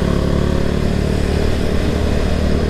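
A carbureted Kawasaki W175 SE motorcycle cruises in fifth, its top gear, a steady loud single-cylinder engine drone with a low thrumming pulse and wind rush, no voices over it.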